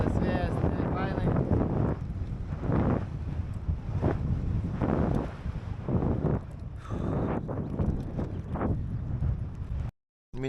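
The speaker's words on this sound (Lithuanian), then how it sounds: "Visą kelią pučia vėjas prieš" Strong headwind buffeting a cyclist's microphone on a bikepacking ride through France, a loud continuous roar that surges in gusts, with someone talking over it throughout.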